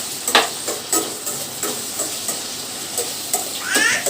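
Ivy gourd is stir-fried in a pan: a soft sizzle broken by repeated scraping strokes of a spatula, each a short burst at an uneven rhythm, close by.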